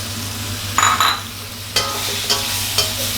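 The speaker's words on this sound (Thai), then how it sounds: "ผัดคลุกเคล้าให้ต้นหอมโดนความร้อนหน่อยครับ" Shrimp, shiitake mushrooms and scallions stir-fried in oyster sauce over high heat in a pan, giving a steady close sizzle broken by a few sharp scraping stirs of the spatula.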